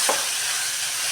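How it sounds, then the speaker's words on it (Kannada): Liver pieces frying in a pan with salt and turmeric, giving a steady broadband sizzle with a brief stirring scrape at the start, close and continuous, no voices. "ಇವಾಗ ನಾನು ಇದನ್ನು ಫ್ರೈ ಮಾಡಿ"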